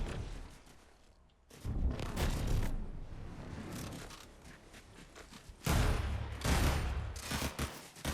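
Bolts fired from a weapon in Fortnite, bursts of rapid crackling shots in two loud clusters separated by a quieter stretch, dense and close with no voices.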